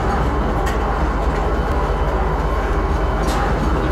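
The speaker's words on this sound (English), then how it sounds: "Finally made it on the train" A space train in the game Star Citizen gives off a steady, loud rolling rumble with a dense low-end drone and faint rail-like rattles throughout, with no break in the sound.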